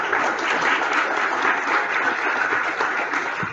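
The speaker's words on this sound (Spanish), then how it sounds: "un fuerte aplauso para el módulo número 1" An audience at a geography and history seminar gives a steady, dense round of applause, loud and sustained throughout with no talking over it.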